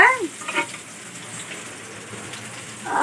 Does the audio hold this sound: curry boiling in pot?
yes